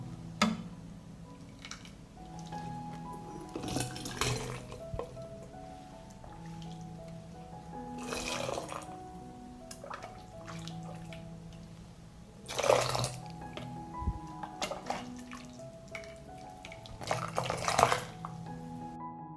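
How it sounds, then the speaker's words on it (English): Beans poured into glass jars of vinegar in a home kitchen, giving a series of sloshing, dripping splashes in several bursts with quiet pauses between, close and fairly loud. "I pour the beans into jars."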